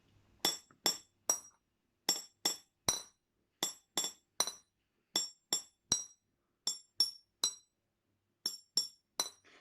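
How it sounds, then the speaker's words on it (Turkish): A teaspoon taps water-filled drinking glasses in a repeating rhythmic pattern, crisp bright clinks grouped in threes and fours with short pauses between groups, close and clear in an otherwise quiet room. "Çay kaşığımla bardağın bir altına vurayım."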